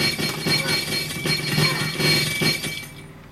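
Glass bottles shatter in the video game Happy Wheels: a loud, busy burst of breaking and clinking glass that fills the moment and then fades out.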